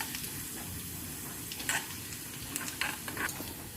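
Food frying in a pan for a Tamil Nadu breakfast: a steady, soft hiss of sizzling oil with a few brief crackles and light stirring clinks, fairly quiet and continuous with no talk.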